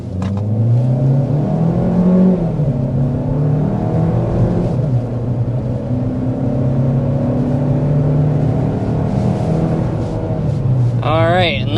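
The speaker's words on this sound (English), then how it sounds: "let's go ahead and start with a hard acceleration" A 2025 Chevy Equinox RS accelerating hard, its engine note climbing steadily and loud throughout, with a brief whine or chirp near the end; a person talks over it.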